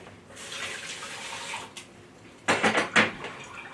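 Coffee is poured from a cup into a hot chocolate mixture for a peppermint mocha, a short liquid pour with a few louder splashy bursts near the end after quieter trickling and a light knock.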